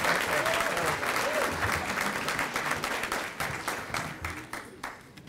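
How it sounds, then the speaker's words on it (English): A full-house audience applauds a newly introduced speaker, the Chicago Department of Buildings commissioner, with steady dense clapping that gradually thins and fades toward the end. "Give her a round of applause."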